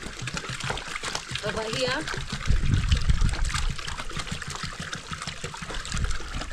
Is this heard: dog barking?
no